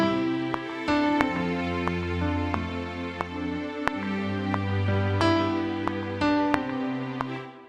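A melody on keyboard white notes, a short two-bar phrase played twice, with clear plucked-sounding tones over sustained chord pads and steady regular note attacks.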